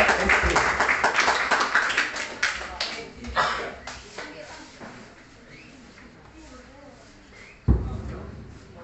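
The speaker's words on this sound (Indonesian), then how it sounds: "sekali lagi beri tepuk tangan untuk anggota kita" An audience at a JPRMI seminar applauds member Parianto ST, with dense clapping that fades over several seconds into a speaking voice, followed by a single sharp thump near the end.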